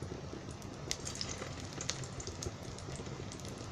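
Poha vada patties dropped one by one into a little oil, sizzling and frying steadily at a low, even level with faint crackles and pops.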